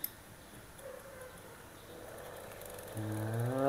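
A Shimano Stradic FL 2500 spinning reel turns by hand. It gives a soft, close mechanical whir that builds into a smooth, rising rotational hum near the end, with no voices.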